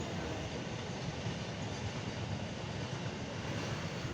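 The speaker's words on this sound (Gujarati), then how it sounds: "તમે જોઈ શકો છો, માલગાડી નીકળી છે સરસ મજાની" A freight train rumbles past nearby at Lathi in a steady, loud roar of rolling wagons, continuous throughout without a break.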